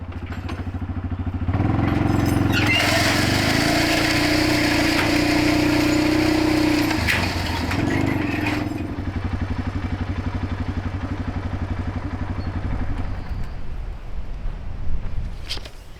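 A grain drill planting corn seed on a test run produces a loud, continuous engine drone with rattling mechanical clatter. It rises in intensity after the first couple of seconds, then eases near the end.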